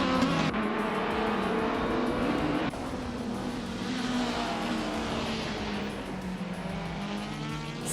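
Several race cars start at the Indianapolis GP in a racing video game, engines droning and whining together in a steady layered roar with shifting pitch, moderately loud and close.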